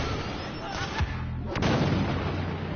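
Turret fire in the video game Star Wars Battlefront: a loud blasting shot near one second and a sharper, heavier burst around one and a half seconds, over a dense, noisy game soundscape.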